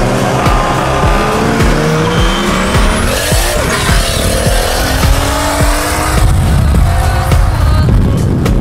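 A Toyota Chaser, a BMW M5 and an old Skoda Octavia launch from a standing start: loud, close engines rev hard and climb through gears, with tires squealing as the cars pull away.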